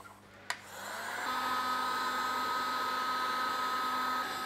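A heat gun or hot-air tool blows steadily on a cut plastic grow spike to soften it for bending, a continuous close whirring roar that starts after a brief click and holds level to the end.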